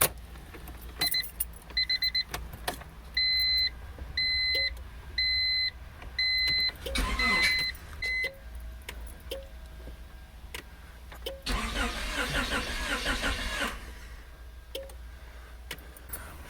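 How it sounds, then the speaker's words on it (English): A 1990 Honda Accord with a newly replaced starter chimes with a repeating electronic beep after the key goes in. A brief crank follows, then a longer grinding crank of about two seconds with engine noise, set against a quiet garage. "just turn the key, see if it runs"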